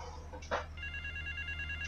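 A telephone rings in the video game Grand Theft Auto III, a steady electronic ringing tone running through the clip, faint under a low engine-like hum and brief game sounds.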